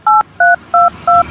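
Four crisp telephone keypad tones dialed in steady succession, each a short two-pitch beep with brief gaps between, loud and close, with no talking over them.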